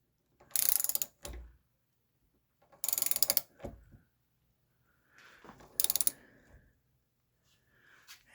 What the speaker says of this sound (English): So I'm going to start cranking and see if I can get that thing to move.